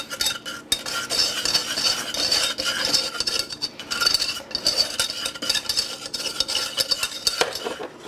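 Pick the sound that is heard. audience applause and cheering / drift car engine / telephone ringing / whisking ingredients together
whisking ingredients together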